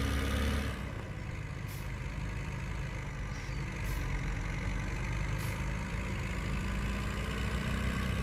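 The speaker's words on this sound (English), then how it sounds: "Oh, that is a mighty tractor." Tractor engine in the Farming Simulator 17 video game, a steady low drone that runs without a break and labours under load in a low gear, with faint clicks over it.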